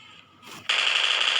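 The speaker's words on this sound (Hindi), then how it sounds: "अब सामने एमके की साउंड आती है" MK rifle fire in the battle royale game PUBG Mobile: after a brief quiet rustle, a sustained rapid automatic burst rings out loud and dense, with no talking.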